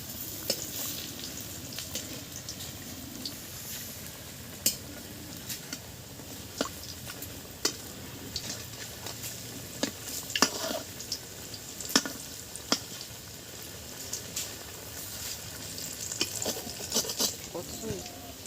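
Cabbage and besan pakoras deep-frying in oil over low heat as they are turned: a faint, steady bubbling hiss runs throughout, broken by scattered sharp clicks and taps.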